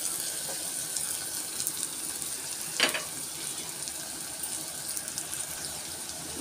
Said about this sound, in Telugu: ఎండు మెత్తళ్ళు అవి ఇరిగిపోకుండా చక్కగా ఫ్రై చేసేసుకోవాలి